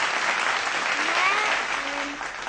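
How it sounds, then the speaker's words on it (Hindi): Loud, sustained applause from a studio audience at a live Indian TV show, steady dense clapping through the whole stretch with faint voices and whoops rising above it. "एक बार फिर से तालियां कौटिल्य के लिए, जोरदार तालियां।"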